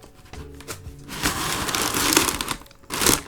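Wrapping paper inside a sneaker box rustles and crinkles in bursts during unboxing, loud and close, with a brief pause before a final crisp rustle.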